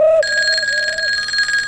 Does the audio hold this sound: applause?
no